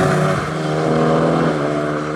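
Honda Civic Type R FK8 and Toyota Supra accelerating hard from a standing start on a mountain pass, a loud, steady engine roar with rising harmonic tones that holds throughout.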